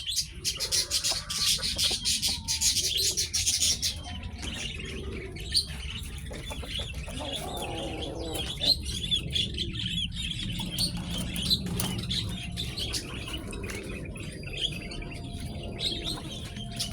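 Pigeons at a game farm coo and call among chirping birds. Wings flap in bursts and a dense chorus of birdsong plays steadily throughout.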